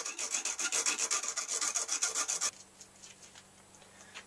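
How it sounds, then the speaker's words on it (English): A metal file rasps across the cut tip of a threaded rod in quick, rhythmic back-and-forth strokes, close and loud, then stops and leaves faint handling noise. "So you probably want to knock that over with a file"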